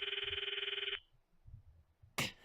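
A telephone in the Steins;Gate visual novel rings with a rapid electronic trill for about a second, then cuts off, followed by faint low background noise and a brief burst of noise.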